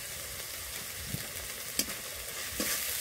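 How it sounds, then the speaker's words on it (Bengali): Ground masala of cumin, coriander and dried red chilli powder fries in a pan under a soft, low sizzle, with a few brief scrapes and clinks as it is stirred. "এবার ভালো করে কষে নেব। মশলা ভালো করে কষে নিয়েছি।"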